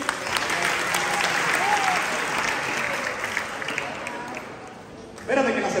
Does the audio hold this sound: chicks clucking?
no